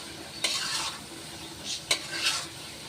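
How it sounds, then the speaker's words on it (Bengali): Fish being stirred and fried in a wok at home, with a soft sizzle under intermittent metal scrapes of a spatula against the pan, a few louder clanks standing out, close and fairly quiet. "এখন সুন্দর মতন কষাইতে হবে।"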